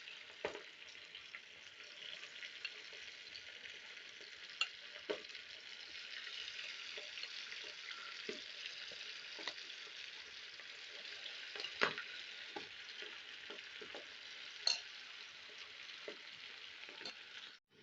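Beef chatkhara boti pieces fry in hot oil with a quiet, constant sizzle scattered with sharp little pops and crackles.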